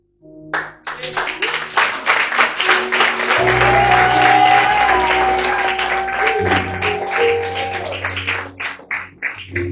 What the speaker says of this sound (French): c'est ça vos acclamations, vos applaudissements.